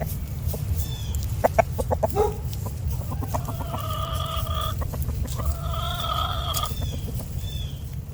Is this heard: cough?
no